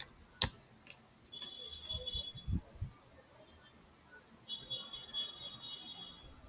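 Typing on a computer keyboard, with a sharp click near the start followed by scattered soft keystrokes and small clusters of taps, close and fairly quiet.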